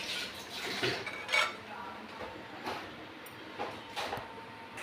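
A spoon stirs besan gatte curry in a pot, scraping and clinking against the metal in soft, irregular strokes, fairly quiet and close.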